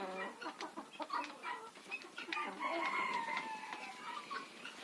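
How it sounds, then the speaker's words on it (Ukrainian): Backyard chickens cluck and murmur continuously while feeding, with overlapping calls and a longer crowing-like phrase, close and moderately loud. "Ой, так курочки добре їдять, молодці дівчатка мої."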